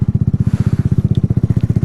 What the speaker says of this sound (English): I love this little motorcycle.